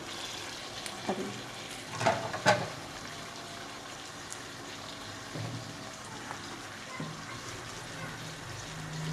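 Tomatoes and green chillies stirred into a frying beef biryani masala, giving a quiet, steady sizzle with a few soft clinks and stirring scrapes near the start.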